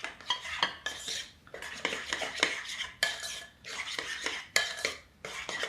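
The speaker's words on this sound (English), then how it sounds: "So if you do a cup of whipped cream, 1/4 cup sour cream. Stir this all together." A spoon stirs whipped cream and sour cream for ambrosia salad in a bowl. It scrapes and clacks in quick rhythmic bursts with short pauses between them, close and clear, and no one speaks.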